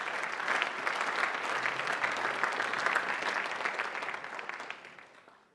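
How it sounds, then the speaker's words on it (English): Crowd applause from an audience at the Pan Celtic Festival, a dense, steady burst of clapping that carries for several seconds and then fades away near the end. "So give them a big round of applause."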